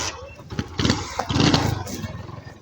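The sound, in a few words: motorcycle engine starting and moving off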